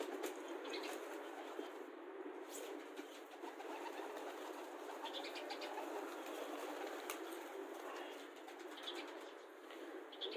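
Ornamental birds kept in an enclosure coo softly and intermittently, faint and somewhat distant, with occasional light rustles and wing flutters over a quiet background hiss.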